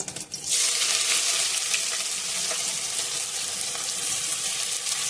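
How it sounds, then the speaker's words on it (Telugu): Onions go into hot oil for gongura chicken, and a loud, dense sizzle bursts up after a brief pause and keeps hissing steadily, close by, with no talking. "దీంట్లో నేను ఇప్పుడు వేసేది ఉల్లిపాయలు వేస్తున్నాను"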